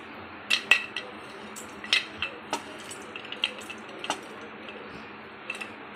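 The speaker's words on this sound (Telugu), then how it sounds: "ఇలా గోల్డెన్ బ్రౌన్ ఫ్రై చేసుకోవాలండి" Coriander seeds and spices being fried in a pan for homemade rasam powder, with scattered clinks and scrapes of a spoon stirring against the metal over a soft background hiss.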